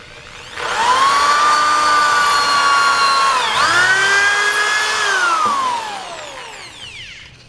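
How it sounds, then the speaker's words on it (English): Power drill with a 1/8 inch bit boring a pilot hole through a marked piece of catapult stock, a loud whining motor that rises, dips briefly mid-run, then winds down as the hole goes through. "I've got the 1/8 inch drill bit. I'm going to drill a hole all the way through on that mark."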